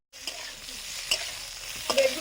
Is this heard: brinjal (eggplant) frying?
yes